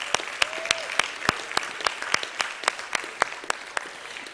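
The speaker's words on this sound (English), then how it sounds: "Please, one more round of applause." Small conference audience giving a round of applause after speakers and panelists, sparse individual claps ringing out sharply and fairly close against a soft bed of clapping, no talk.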